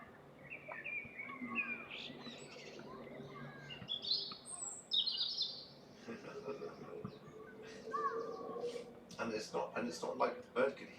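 Birds chirp and tweet repeatedly throughout, a mix of short calls heard from indoors through a window, with a voice talking over them for much of the time.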